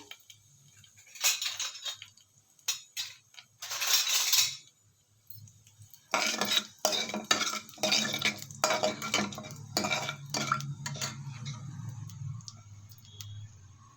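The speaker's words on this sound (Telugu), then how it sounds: "అవి వేగిన తర్వాత ఒక ఎండుమిర్చి వేసుకుని ఇలా వేగనిద్దాము." Dried red chili and mustard seeds fry in a pan, opening with a few utensil clinks and bursts, then a dense run of crackling, spluttering pops over a low sizzle that gradually thins out.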